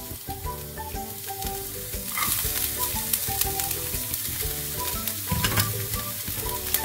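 Onions and sweet pepper sizzle and fry in hot oil in a pan, a steady dense crackle that runs throughout with occasional stirring scrapes, close and fairly loud, with no talking.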